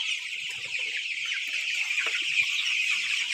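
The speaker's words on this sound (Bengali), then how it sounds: "দুইটা মুরগি আছে" Tiger breed chickens cluck in low, scattered bursts, close by, over a steady loud hiss of background noise.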